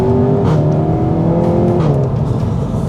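SEAT Leon Cupra 300 hot hatch exhaust under acceleration, a loud, close, continuous engine drone whose pitch shifts as the revs change, with no talking.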